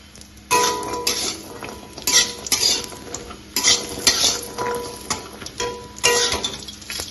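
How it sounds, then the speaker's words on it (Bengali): Vegetable bori, small lentil dumplings, fry in oil while a spoon stirs and scrapes around the pan in repeated bursts, metal clinks punctuating a continuous sizzle, close and loud with no speech. "এখন ভাবছি সবজি বড়িগুলো আগে ভেজে দিই"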